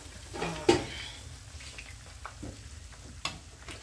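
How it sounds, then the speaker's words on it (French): Fried capitaine fish being stirred into sauce in a pan, a low steady simmer under gentle scraping and a couple of sharp utensil clacks against the pan. "Je mélange avec la sauce."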